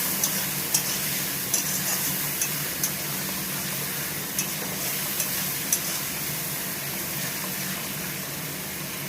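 Fish head frying in a pan for muri ghonto, a steady oily sizzle with light scraping strokes of a spatula stirring at a regular pace, close and continuous without voices.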